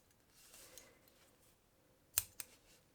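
Scissors snip through crochet yarn on an amigurumi bat, two quick faint clicks close together after soft rustling, in a quiet room.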